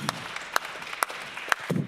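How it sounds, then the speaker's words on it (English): Scattered claps ring out in a jazz vespers service audience, a few sharp, separate hits at a slow, uneven pace rather than a dense ovation. "let's give a round of applause to the staff that maintain the microphones and the sound"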